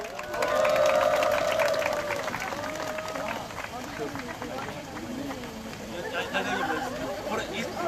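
A crowd at an outdoor press conference in Jeju claps in welcome, a loose, moderate patter of applause mixed with chatter and a few voices. It swells early and then settles under ongoing talk.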